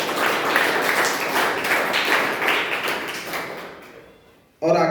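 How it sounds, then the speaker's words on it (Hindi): Loud applause from an audience at a religious seminar gathering fills the room with dense, steady clapping, then fades out quickly before a brief burst of sound at the very end. "एक बार जोरदार तालियां।"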